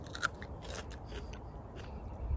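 A raw foraged wild ramp is bitten and chewed at a canoe campsite, giving a quick crisp crunch near the start followed by softer chewing, close and fairly quiet.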